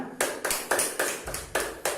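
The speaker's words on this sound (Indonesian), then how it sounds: "Silakan beri tepuk tangan dulu untuk Dina" A physics microteaching class gives a student a short round of applause: a handful of sharp, uneven claps from a small group in a classroom, close and fairly loud.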